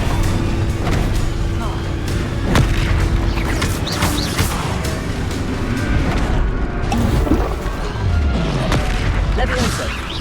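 Confringo spell explosions in Hogwarts Legacy, a dense barrage of booming blasts and crashes over continuous loud game combat noise, with a shouted incantation in the mix.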